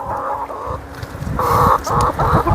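Chickens and roosters in a farm coop with sawdust bedding cluck and call loudly up close, repeated bursts of clucking and squawking overlapping in quick succession.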